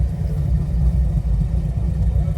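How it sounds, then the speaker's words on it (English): Loud, steady low engine rumble of two idling motorcycles right beside an open car window, a continuous throbbing drone with no pauses. "two very loud motorcycles just want to sit right beside my open window"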